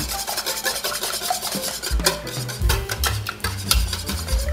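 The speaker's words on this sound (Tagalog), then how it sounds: "then batihin nyo lang po yung ating itlog" Eggs beaten in a bowl, a steady close-up scraping and whisking rasp with quick rhythmic strokes throughout and no talking.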